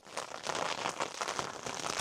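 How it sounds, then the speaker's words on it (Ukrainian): Steady rain at night on the Dnieper while fishing, a dense close patter of drops on a surface, constant and even with no voices. "Так, 9 година у нас опять дощ"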